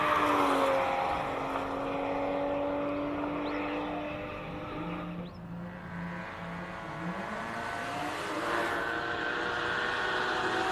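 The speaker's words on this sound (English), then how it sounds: "that is Eugene Herbert in the Porsche 981 Boxster" A Porsche 981 Boxster is driven at the Simola Hillclimb event, its engine a sustained loud drone whose pitch climbs and shifts through gear changes as the car passes at a distance, with outdoor ambience and no talk.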